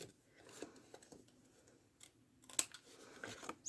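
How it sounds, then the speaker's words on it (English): Paper snips cut through a card-making paper strip in a few quiet, sharp snips, with faint handling rustle around them and no talk. "Snip that right off."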